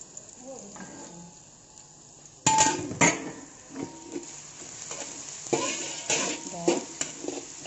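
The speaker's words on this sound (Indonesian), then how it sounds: "kita tumis ya apinya besar ya" Duck with green chillies stir-fried in a pan over a big flame, a loud sizzle flaring up after a quiet start, with the metal spoon scraping and clinking against the pan again and again, close by.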